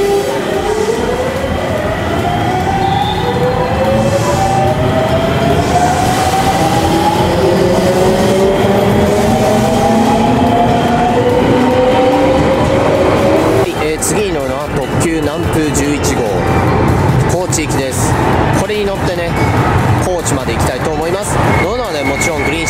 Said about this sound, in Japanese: 乗ってきた列車見送っていこうと思います